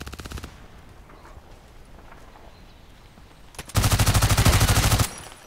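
Magpul PDR-C submachine gun firing in the shooter game Contract Wars, a short rapid burst at the start, a quiet pause, then a loud, sustained full-auto stream of evenly spaced shots lasting over a second, up close with no talking.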